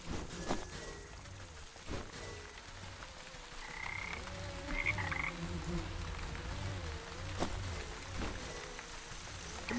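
Frogs croak steadily in the Wytchwood video game, a low repeating chorus of croaks under soft ambient texture, fairly close and continuous throughout.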